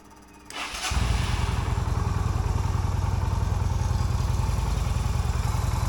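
A Yamaha V Star 250 motorcycle with a repaired choke cable is started up, a short whirring crank building within a second into a close, loud, steady idle with a fast, even thumping pulse that continues to the end.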